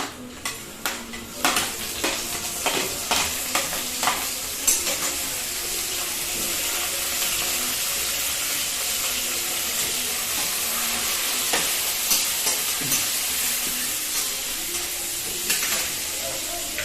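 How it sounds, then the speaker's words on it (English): Garlic stir fries in a tablespoon of oil in a thick-bottom kadai, with a steady close sizzle under repeated metallic scrapes and clinks of a spatula, busiest at the start. "Take a thick bottom kadahi and add some oil to it. 1 tablespoon. Let us stir fry the vegetables. So first I will add the garlic."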